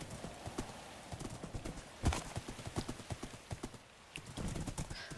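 Horse hooves galloping in a Minecraft Lord of the Rings mod game, a steady rapid clip-clop rhythm of close, fairly quiet hoofbeats with a brief pause near the end, no voices.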